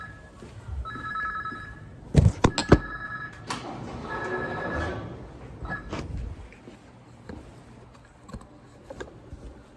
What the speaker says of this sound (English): you will hear the phone ringing